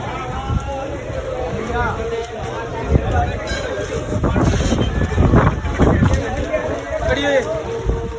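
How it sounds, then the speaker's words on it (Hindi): A strong dust storm wind blasting across an outdoor street, roaring steadily into the microphone with rumbling, buffeting gusts that swell louder midway. "मस्त हवा चल रही है, नहीं आंधी सॉरी।"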